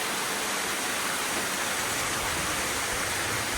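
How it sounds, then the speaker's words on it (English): A small waterfall in the jungle pours with a constant, dense rush of splashing water, loud and near, filling the whole moment without any voices. "And this is the waterfall. Oh, I mean mini waterfall."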